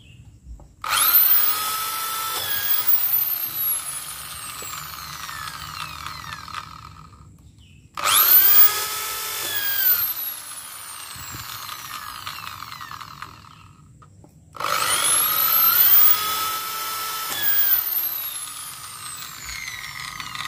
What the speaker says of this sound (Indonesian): Kita menggunakan bor.